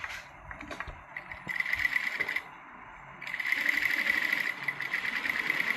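A sewing machine stitches slowly along the folded edge of fabric for a princess-cut garment, running in two steady bursts of rapid mechanical whirring with a brief pause between them, close and fairly loud.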